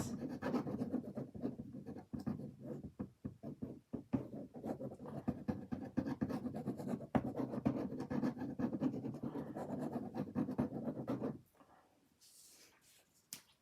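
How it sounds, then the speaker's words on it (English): A glue pen scribbles adhesive onto the back of a craft card. Rapid, close scratchy strokes come in quick bursts for about eleven seconds, then a brief quiet tail follows, with nobody talking. "So we scribble a bit of glue."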